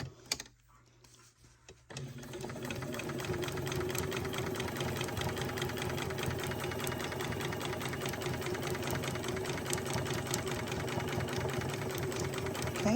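A sewing machine stitches around fabric, starting after a short pause with a quiet click and then running as a steady, fast mechanical whir with rapid needle ticking for over ten seconds, close up.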